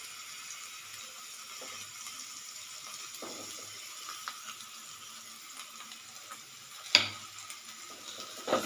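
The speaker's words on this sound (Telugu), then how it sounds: "ఇది బాగా వీటికి ముక్కకు పట్టేటట్టుగా దొండకాయకి చక్కగా తిప్పాలండి." Chopped ivy gourd with an onion-chili paste and curry leaves sizzles faintly in a pan while it is stirred, with soft scraping and a few sharper clicks over a steady low hiss.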